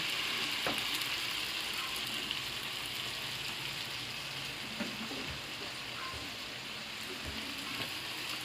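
Chicken adobo sizzling in a pan after soy sauce is added, a steady moderate frying hiss with faint crackles and a few small pops throughout.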